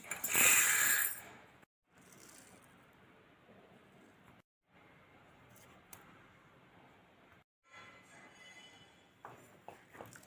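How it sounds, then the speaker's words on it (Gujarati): An electric mixer grinder grinding fenugreek seeds roars loudly at first, then settles into a steady whir that stops and restarts in several short runs with brief pauses between. "તો આપણે બધું મિક્સરમાં આપણે પીસી લેશું"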